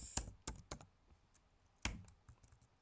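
Close, quiet computer keyboard typing comes in a few scattered crisp keystrokes with short pauses between them, one louder click standing out near the end.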